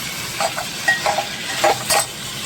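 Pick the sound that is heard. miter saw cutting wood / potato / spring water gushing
potato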